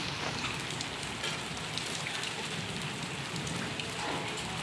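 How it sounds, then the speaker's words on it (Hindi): Rain mixed with sleet pours down steadily outdoors, a dense, continuous hiss of drops pattering on surfaces close by, with no voices. "बर्फ बारिश हो रहे हैं यहाँ पे।"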